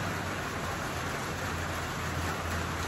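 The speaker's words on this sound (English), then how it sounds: "It's raining." A steady, even hiss of rain falling continuously, a soft wash of drops with no other sounds.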